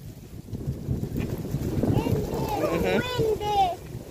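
Wind buffets the microphone in a steady low rumble while people talk and call out nearby.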